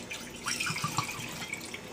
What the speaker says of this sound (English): I can ladle and I pour it in